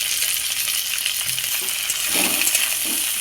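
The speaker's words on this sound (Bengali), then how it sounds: "এইবার আমি পেঁয়াজ কুচানোটা দিয়ে দেব।" Chopped onion frying with already-fried potatoes in a pan, a steady close sizzle throughout that swells briefly near the end as the pieces hit the hot oil, with faint scraping.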